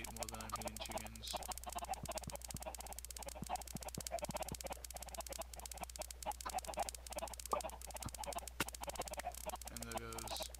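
Chickens clucking in a Minecraft automatic chicken farm, repeated short game clucks scattered over a steady background hum, with a few sharp hit sounds mixed in.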